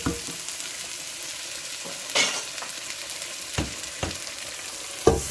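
Garlic and onion cook in a pot with a soft, steady sizzle. Several sharp stirring scrapes and clinks break in intermittently, all fairly quiet and with no talk.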